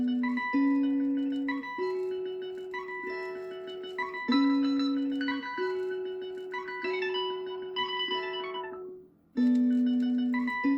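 A high, chipmunk-pitched melodic sample loops in a lo-fi/trap beat, with bright synthetic tones and a brief dropout near the end before restarting.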